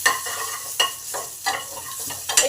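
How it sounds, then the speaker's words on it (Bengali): Nigella seeds, cumin, chopped garlic and chili fry in a pan, sizzling steadily while a spoon stirs them in several distinct scraping bursts, close by. "এইগুলোকে 1 মিনিট ভেজে নেব"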